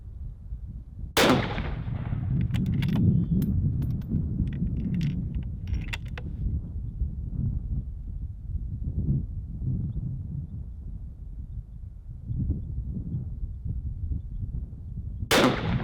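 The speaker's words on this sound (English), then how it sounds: "So we'll just do a couple test shots with it." Test shots from a Savage 10FP bolt-action rifle in .308 Winchester at an outdoor range, with two loud, sharp cracks about fourteen seconds apart, each trailing into a rumbling echo, and low background noise between them.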